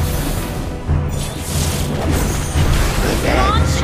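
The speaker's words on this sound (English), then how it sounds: "You destroyed a turret!" Explosive boom as a turret is destroyed in a Mobile Legends match, loud and layered over busy battle noise and game voice lines throughout.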